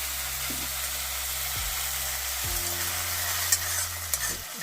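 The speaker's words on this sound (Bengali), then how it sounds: "আর এখানে এখন হচ্ছে মোরলা মাছের মাথা ভাজা" Mourala fish heads fry in a pan with a steady, close sizzle of hot oil, broken by a few stirring scrapes and taps near the end; no speech.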